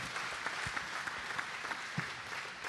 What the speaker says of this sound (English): Nice round of applause for Coach Bowden